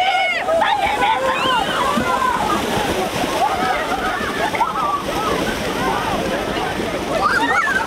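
Children from a Cossack combat school plunge into cold Dnipro river water at Zaporizhzhia for Epiphany, producing continuous close splashing and sloshing amid loud shouts and chatter from the crowd.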